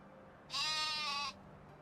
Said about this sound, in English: The sound these sheep make are disgusting.